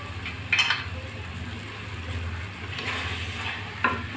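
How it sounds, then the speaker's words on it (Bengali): Chopped tomatoes go into frying spice paste for chicken kosha, giving a continuous sizzle with a few sharper bursts of spattering and stirring scrapes in the pan. "এবার আমি টমেটো কুচিগুলো দিয়ে দিচ্ছি।"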